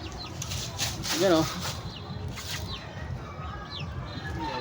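Newly given chicks peep in short high rising chirps alongside other birds, with someone talking over them close by.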